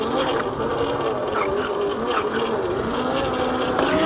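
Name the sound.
Yozma IN-10 electric dirt bike mid-drive motor running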